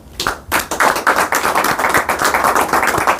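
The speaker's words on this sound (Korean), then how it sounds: "열렬한 박수를 보내드립니다" Lively applause from an audience at a retired professors' association lecture, starting abruptly and continuing as dense, steady clapping to the end.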